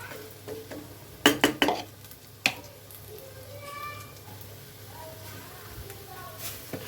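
New potato curry stirred in a pan: a few sharp spoon-on-pan clinks and scrapes in quick bursts, then a soft, steady simmering sizzle underneath.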